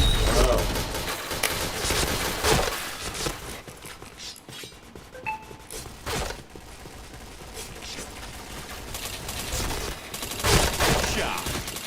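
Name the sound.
gunfire in the video game PointBlank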